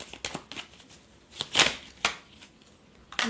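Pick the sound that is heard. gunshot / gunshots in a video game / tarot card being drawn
tarot card being drawn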